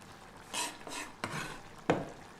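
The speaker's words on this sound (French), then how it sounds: "je vais mélanger ce persil à la viande" Chopped parsley being mixed into meat for stuffed tomatoes, heard as four soft scraping, thudding strokes of a utensil in a bowl, close and quiet, with no talking.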